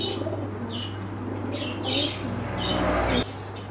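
Backyard pigeons and a young chick make several brief squawks and squeaks, a fuller burst near the middle, over a constant low hum that cuts out near the end.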